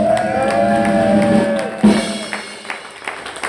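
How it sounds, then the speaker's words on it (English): A live gig audience at Leo's applauds and cheers for the band's sound engineer, a burst of clapping and crowd noise rising over a lingering guitar tone. "can I have a big round of applause for Simon on the sound tonight?"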